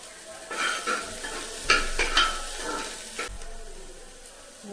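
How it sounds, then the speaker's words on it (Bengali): Onions frying in a pan with garam masala, cloves, cardamom and cinnamon for an Indian chicken soup, with soft sizzling under repeated stirring and light scrapes and clinks of a utensil against the pot. "পেঁয়াজটা ভেজে নিচ্ছি, গরম মশলা, লং, এলাচ, দারচিনি"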